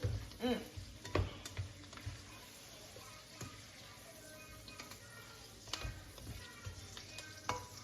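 Onions frying in butter in a pan, a quiet steady sizzle with occasional stirring clicks and scrapes of a utensil.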